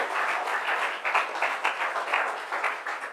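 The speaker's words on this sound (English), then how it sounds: "A round of applause for our participants." A small audience at a talk on big data and democracy claps for the participants, a dense, lively burst of applause with a few louder swells, close and steady for a few seconds.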